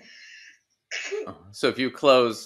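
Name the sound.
person sneezing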